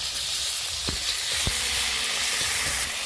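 Onion and tomato sizzle in a pan for a village-style puti fish curry. The frying hiss is dense and continuous, broken by a couple of sharp utensil knocks and stirring sounds, with no talking.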